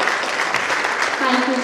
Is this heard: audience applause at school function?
yes